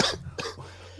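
Two short, soft coughs or throat-clearing bursts come from a person on a podcast recording, close to the microphone and fairly quiet, with a low steady hum underneath.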